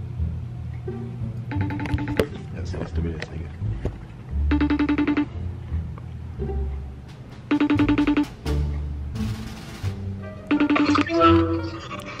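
A phone ringtone sounds for an incoming FaceTime call, several loud repeating melodic bursts at steady intervals, with faint background noise and a brief voice between rings.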